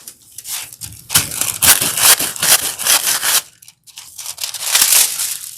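Doubled-up foil gets scuffed and rubbed up close in a series of loud, gritty crinkling scrapes, with a short pause before a final burst of rubbing.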